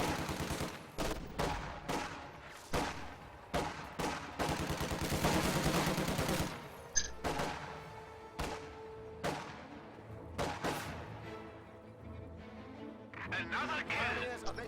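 Machine gun fire from an MG42 in a WWII strategy video game, rapid bursts and single shots popping repeatedly at moderate level, with commentary running over the gunfire.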